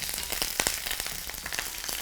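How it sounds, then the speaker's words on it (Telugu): Onion paste and curry leaves frying in a pan of hot oil for Telangana-style egg curry, a steady close sizzle with scattered crackles and pops, no voices. "కరివేపాకు వేసుకొని ఆనియన్ పేస్ట్ని కూడా వేసేసుకొని వేయించుకుందాం."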